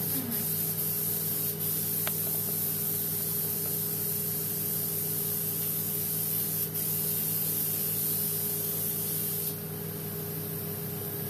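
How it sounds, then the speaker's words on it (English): A steady, continuous hiss of oxygen spray applied to facial skin during a facial treatment, running for several seconds, close by, with a faint hum underneath and no talking. "Oxygen spray. Let's spray."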